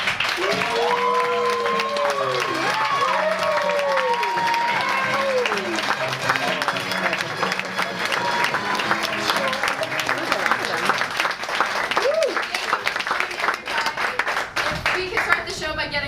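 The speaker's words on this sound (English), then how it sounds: "Give a big round of applause to your group for this afternoon." A crowd at an improv class show claps loudly and cheers to welcome a group to the stage; sustained applause with whoops and shouted voices rising over it, lasting throughout.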